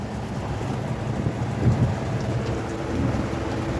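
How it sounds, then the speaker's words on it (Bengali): Steady rain pouring outside during a storm, with a low rumble of thunder rolling in partway through, a continuous wash of rainfall heard without voices. "বৃষ্টি পড়ে তো, বৃষ্টি পড়ে তো"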